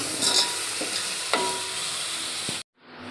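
Fish frying in a pan for a fish curry, stirred with steady scraping strokes over a loud, continuous sizzle; a few sharp clicks from the utensil stand out before the sound cuts off abruptly near the end.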